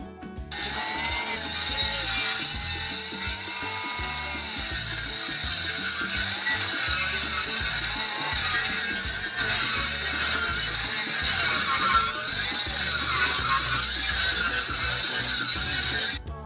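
A power saw trims deck boards for a floating garden deck, grinding through wood in one long, loud, continuous cut with a rough, rasping edge throughout.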